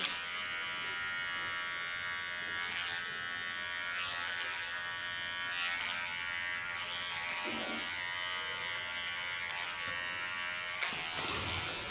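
A small electric hair clipper with ceramic blades hums steadily and closely while cutting a woman's short hair, a continuous buzz with slight wavers and a brief rattle near the end.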